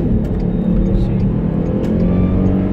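A 2006 Volkswagen Touareg with a VR6 engine revs as it accelerates into traffic, a steady loud engine drone with road noise filling the whole stretch, and faint cabin sounds over it.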